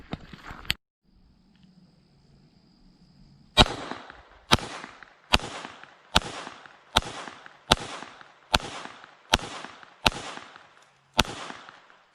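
Gunshots from a Glock 44 .22LR pistol at a shooting range: one sharp shot, a pause, then nine evenly spaced cracks in quick rhythm, each loud and close with a short decay.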